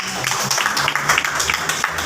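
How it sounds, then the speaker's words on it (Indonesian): A fourth-grade class claps for a group of classmates: brisk, close applause from many small hands, with faint children's voices mixed into the clapping. "tepuk tangan untuk kelompoknya Mas Baim"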